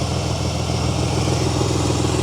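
Chevy S10 truck engine running steadily after new distributor wires were fitted, a continuous close idle rumble with no pauses and no talk.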